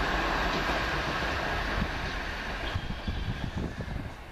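A Class 377 Southern Railway electric train rolls past close by at Preston Park, a steady broad rush of noise with rhythmic clicking from the wheels growing toward the end.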